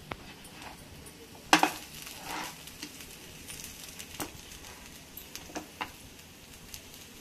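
Bitter gourd stir-fried in a pan gives a faint background sizzle with a sharp utensil clink and a few scattered scraping knocks as the pieces are turned.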